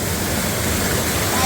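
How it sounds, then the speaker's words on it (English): Kpatawee waterfall in Liberia, a loud, steady, full-bodied roar of falling water, heard close and unbroken, with no voices over it. "we are at the Kpatawee waterfall"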